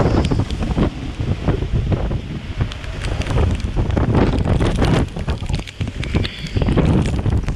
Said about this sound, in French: je viens de me laisser surprendre par un grain en cours qui est monté à 35 nœuds